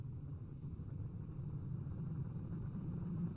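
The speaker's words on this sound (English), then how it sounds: "Here we go, re-entry effects." Spacecraft re-entering the atmosphere in the game Kerbal Space Program, a steady low roaring rumble that holds loud and unbroken throughout with no voices over it.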